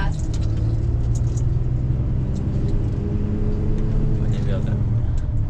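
A DAF truck's engine pulls and accelerates as it drives, giving a low, steady rumbling drone with faint tonal whine. The drone continues under light background chatter.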